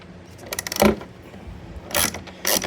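A ratchet works on bolts of a motorcycle saddlebag lid on an Indian Challenger, giving a few sharp, close clicking bursts separated by brief pauses.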